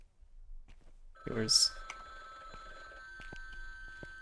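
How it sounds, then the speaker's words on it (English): A payphone rings inside a laundromat in a video game, a short burst of electronic ringing with a bright tone that stands out once against quiet ambience and soft room noise. "Oh, was it the bell? No, that was a payphone."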